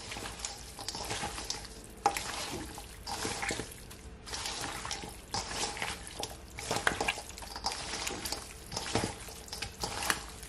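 Seasoned turkey neck for Jamaican curry is mixed by hand with spices and pimento seed, making wet squelching and stirring sounds in uneven bursts, close and moderately loud with no talking.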